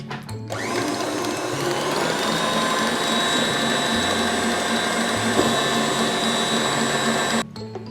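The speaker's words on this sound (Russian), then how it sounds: "Добавляем сливочный сыр маскарпоне. и взбиваем до состояния однородного крепкого крема." An electric mixer whipping mascarpone cream cheese into cream, a loud steady whirring drone that holds for about seven seconds, shifting slightly in pitch before cutting off abruptly.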